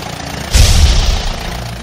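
A tractor pulling a sprayer idles with a low, steady engine rumble that swells suddenly with a loud burst partway through, then settles back, heard alone and close.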